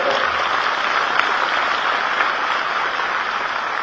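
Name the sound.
audience applause welcoming a speaker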